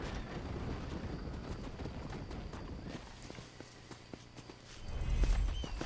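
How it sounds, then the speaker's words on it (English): A horse walks up in Red Dead Redemption, its hooves clopping steadily and close, fading to sparser steps before a low rumble swells at the end. "You're not my horse. I don't know why you're walking up to me."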